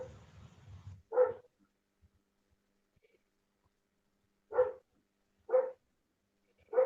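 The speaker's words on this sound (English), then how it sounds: "We got a dog." A dog barks in four short, sharp single barks, one early and three spaced later, moderately close in an otherwise quiet room, after a brief stretch of low murmuring at the start.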